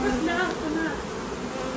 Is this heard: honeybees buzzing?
yes